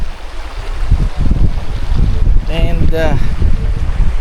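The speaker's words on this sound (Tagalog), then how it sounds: "Lakas din ng hangin." Strong gusty wind at a riverside campsite near Kalaparan Falls, Tanay, Rizal, roars and rumbles loudly across the microphone. Rushing noise fills the whole stretch, and a person's voice is briefly heard beneath it.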